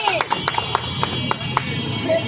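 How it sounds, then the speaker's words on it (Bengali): A small indoor audience at a driver-awareness session gives brief, scattered claps, a handful of sharp hand slaps spread across a couple of seconds, fairly close. "ভাইয়া জন্য একটু জোরে হাততালি"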